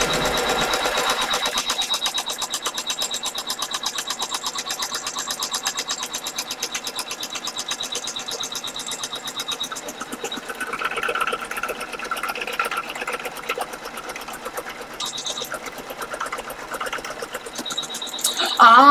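An embroidery machine stitches a second colorway onto denim fabric, a steady rapid mechanical whir with fast needle chatter that runs continuously and close by, with small shifts in tone partway through.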